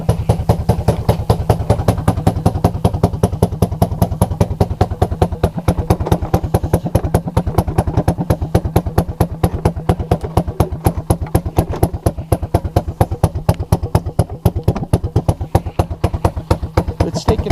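A cold ATV engine fitted with a new carburetor idles on choke, loud and close, with a steady rapid chugging beat that runs unbroken throughout.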